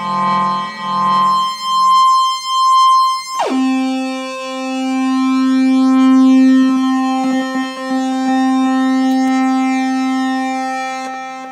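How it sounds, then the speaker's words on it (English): A Maplin Voice Vandal kit digital delay set to moderate feedback and a fast rate, giving a pseudo reverb effect: a pulsing harmonic tone drops suddenly in pitch into a sustained, buzzy, ringing drone with smeared echoes, loud and alone. "put feedback about 10 o'clock and leave the rate really sharp, we can get a kind of a pseudo reverb-y type sound"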